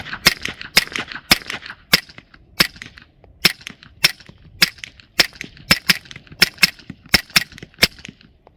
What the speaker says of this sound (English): 5 shots, supersonic. The rest will be subsonic.